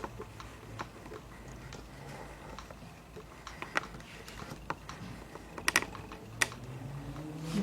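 A computer keyboard is typed on in irregular, light clicking keystrokes with a few sharper taps, steady and close over a low hum.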